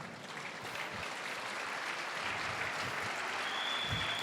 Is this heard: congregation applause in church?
yes